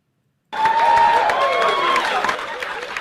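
After a short silence, an audience breaks into steady clapping that is fairly loud and sustained, with a crowd murmur and a few tonal sounds layered over it.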